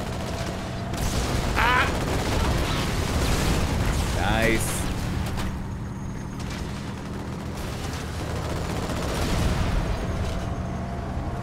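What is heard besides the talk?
gunfire in Halo video game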